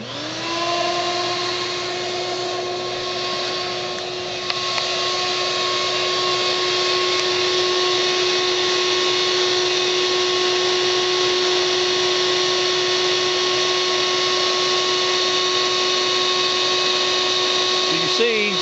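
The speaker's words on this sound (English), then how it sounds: "You can see it's not sucking up the bees like I want." A bee vacuum's motor drones loudly and continuously, with a steady high whine that holds unchanged from start to finish.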